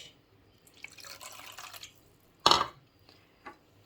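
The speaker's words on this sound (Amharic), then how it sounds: "እዚህ ላይ የማስገባው ምንድነው? ውሃ ብቻ ትንሽ።" A small splash of water poured into food cooking in a pan, heard as one short, bright burst after a softer stretch of trickling, with a faint drip just afterward.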